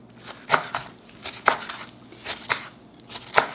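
A knife chops well-fermented sour kimchi into small pieces on a board, giving about six sharp, crisp strokes at uneven intervals, close and clear with no talk.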